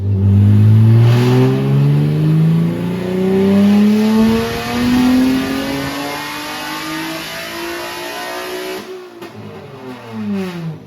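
A car engine with ported heads and big cams revs hard and loud during a dyno run, its pitch sweeping steadily upward before cutting off and then dropping away, with no talk over it.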